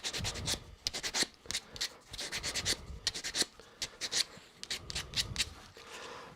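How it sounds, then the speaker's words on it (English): Sandpaper rubbing over a turned ash nut bowl, a series of quick close scratchy strokes in uneven bursts, fairly quiet with short pauses between. "And then finish that with a bit of sandpaper"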